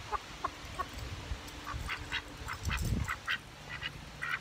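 A pet duck quacks repeatedly in a garden while trying to eat a tomato, short nasal calls coming in an irregular series at moderate distance over low background noise.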